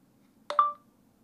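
A single short phone keypad tone, a clean electronic beep with a slight double onset, sounds once over a faint background hum while a message is typed on a phone, with no voices.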